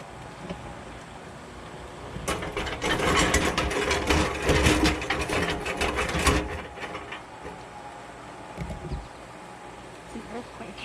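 A home-built electric honey extractor spins up, giving a loud mechanical whirring and rattling that swells for a few seconds and then fades, with a person talking nearby.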